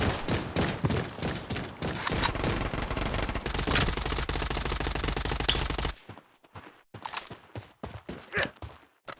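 Rapid machine-gun bursts and gunfire in the Blood Strike shooter game, loud and dense for several seconds, then breaking into sparser, scattered shots with brief gaps.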